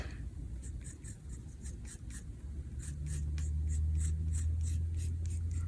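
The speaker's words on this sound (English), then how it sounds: "So I'm sketching what I want." Pencil sketching a crescent moon on paper for a stamp design, a soft continuous scratching with rhythmic strokes, close and quiet, with a low hum joining partway through.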